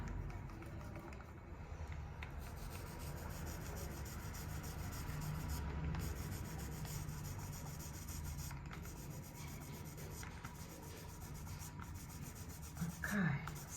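A paint roller is rubbed back and forth over a stencil, making a steady, close, dry scrubbing sound that continues throughout with little variation.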